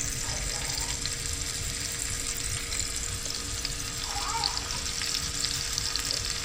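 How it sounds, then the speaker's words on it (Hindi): Fish laid on an oiled tawa sizzles in a steady, even hiss that runs throughout at moderate level, with no voices. "ये तवे पे मैंने फ़िश रख दी है। अब इसको पकाएंगे हम एक साइड से"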